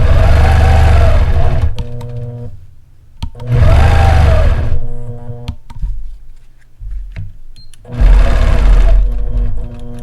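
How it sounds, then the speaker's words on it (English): A sewing machine stitches ruler-work quilting in a triangle design, running in three loud close bursts of rapid needle hum separated by pauses filled with small clicks and handling noises. "Stitch until you're about a half of an inch with your needle away from the edge."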